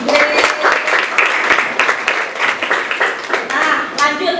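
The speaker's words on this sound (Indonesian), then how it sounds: "Luar biasa, tepuk tangan untuk Gret." A classroom of students claps for a classmate during a lesson, a lively burst of rapid, uneven hand claps with a voice speaking over it toward the end.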